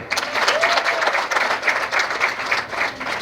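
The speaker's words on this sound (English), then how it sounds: "Please clap." An audience at a women in insurance breakfast meeting claps loudly and steadily in a dense, close burst, with faint crowd murmur underneath.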